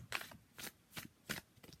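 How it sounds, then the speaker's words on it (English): A deck of tarot cards is side shuffled in quick bursts, about four or five crisp riffling rustles in a steady rhythm, close up and quiet, with no voices. "I will do a side shuffle."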